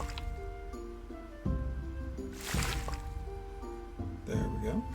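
Water being collected in Graveyard Keeper gives a run of wet squishy splashes and drips, several short bursts spaced across the moment, mixed with soft game tones and a steady backing hum.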